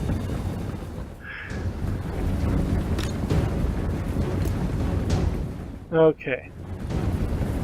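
Empire cannon artillery in the Total War Warhammer battle game booms through a steady loud rumble of distant fire, with a voice speaking briefly over it.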